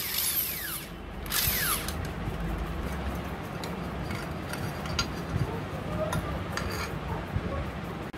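A ratchet wrench works loose the clutch cover bolts on a motorcycle, giving rapid clicking bursts under steady workshop noise, with a couple of sharp metallic rasps near the start.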